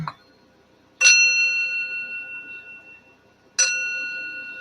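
Two clear chime strikes about two and a half seconds apart, each ringing out with bright, sustained overtones that slowly fade.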